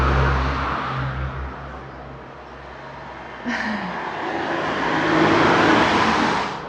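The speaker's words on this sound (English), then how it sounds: "I don't suppose the cars bother you" Cars passing on a road outside a quiet home, a loud rushing engine and tyre noise that fades and then swells again as another vehicle approaches, with no talking.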